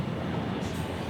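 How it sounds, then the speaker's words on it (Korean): A train rumbles past on a railway line in the Sinchon neighbourhood of Seoul, a dense, steady roar of wheels and carriages close by that fills the whole moment with no pause. "기차가 가는구나."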